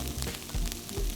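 Fresh coriander leaves sizzle quietly as they sauté in a spicy chilli masala in a pan for a coriander fish fry, a soft, steady crackle close by.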